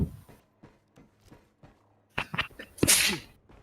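Single sharp sneeze from a player during a co-op session of the shooter GTFO, loud and close, preceded by softer breathy sounds and clicks.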